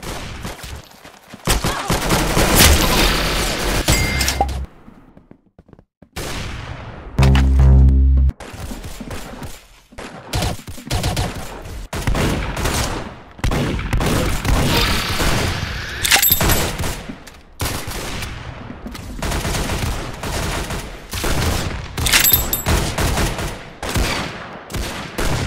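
Rapid bursts of gunfire from the Roblox Arsenal shooter game, with fast automatic volleys and sharp single shots coming in clusters, loud and up front, broken by brief pauses.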